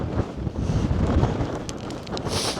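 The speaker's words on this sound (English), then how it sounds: "Sorry about any wind noise." Steady rumbling wind buffeting the microphone, a low blustery roar throughout with no one speaking.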